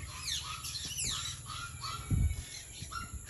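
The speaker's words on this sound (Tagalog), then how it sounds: "Mga ibon." Several birds calling outdoors, repeated squawks and chirps of moderate loudness at varied pitches, with a brief low thump partway through and no talking.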